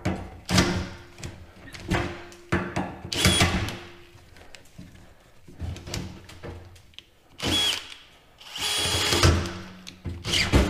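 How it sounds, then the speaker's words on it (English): An electric drill whines and grinds in repeated bursts, biting through metal on a Farmall 806 tractor rock box, with loud, harsh spurts separated by short pauses. "the drill finally chewed through them"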